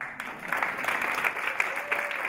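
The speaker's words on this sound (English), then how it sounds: "I'd like to start with an applause for the panel" Audience applause for a panel at a discussion on Chicago's inclusive economy and creative sector, a steady wash of clapping from a crowd held for a couple of seconds at moderate volume.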